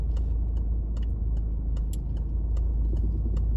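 A car creeps gently forward through a car park on a driving test route in West Bridgford, its engine a low, steady hum close by, with faint ticking throughout.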